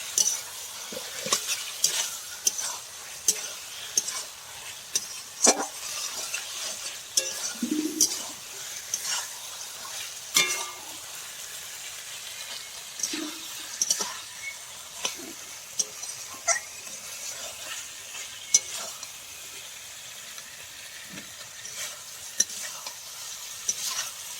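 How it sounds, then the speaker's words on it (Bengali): Fried taro pieces being stirred and sautéed with spices in a pan in a village kitchen, giving a steady soft sizzle broken by frequent scraping stir strokes, with birds faintly audible in the background. "এখন আমি দিয়ে দেবো ভেজে রাখা কচু। ভালো করে মশলার সঙ্গে কষিয়ে দেবো।"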